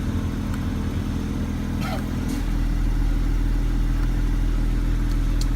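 A Porsche Carrera S engine drones steadily at close range, its low rumble deepening and growing slightly louder partway through after a change of driving mode.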